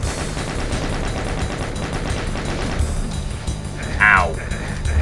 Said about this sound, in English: these nasty chain gunners right at the start